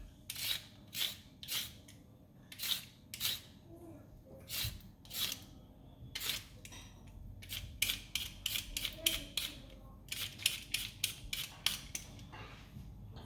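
A peeler scrapes along a carrot in quick, repeated strokes, a dozen or more crisp rasping swipes close by, irregularly spaced with brief pauses, no talking over them.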